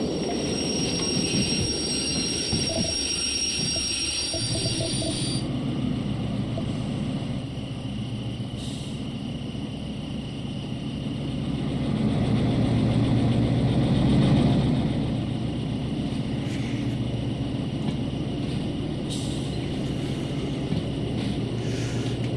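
In a train simulation game, diesel locomotives shunt a long string of railcars with a steady low engine drone. Wheels squeal and metal clanks now and then, and the engine swells briefly as the train pushes.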